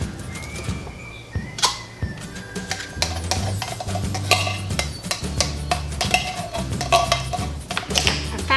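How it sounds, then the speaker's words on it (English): Golden mushroom soup, a packet of Lipton onion soup and broth being stirred together, with a spoon clinking and scraping against the bowl in irregular taps, close and without talk. "I'm going to mix together my golden mushroom soup, my packet of Lipton onion soup,"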